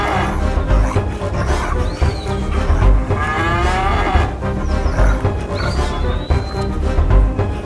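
Cows in a children's cartoon moo loudly and repeatedly, with several long drawn-out calls overlapping against a busy, full background.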